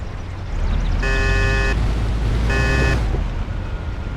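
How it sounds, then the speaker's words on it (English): A car horn in the game Mafia: The City of Lost Heaven sounds in two loud, flat blasts, the first longer and the second shorter, over a low engine rumble. "you should warn them by sounding the car horn"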